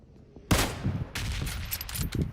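Rifle shots in an esports shooter video game crack out in a rapid cluster of loud sharp reports, some close and punchy, others lighter, over continuous game noise.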